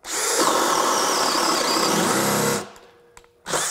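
A DeWalt compact 20V cordless drill, likely a DCD791 or DCD796, bores a hole with a steady high-pitched motor whine that runs for about two and a half seconds, stops, then restarts briefly near the end.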